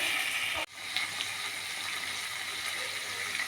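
Water pours steadily into a pan of cooking bottle gourd and capsicum stir-fry, a continuous close gushing hiss after a brief break at the start.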